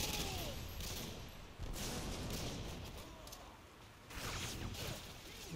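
A SCAR-H rifle fires in the video game Modern Warfare 2, loud and rapid gunfire going on through the clip with a fresh burst near the end and no talking.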